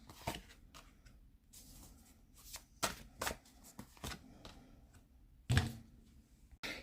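Tarot cards being shuffled by hand, soft riffling and slapping in quiet, irregular bursts with a sharper snap near the end, close and fairly faint, no talk.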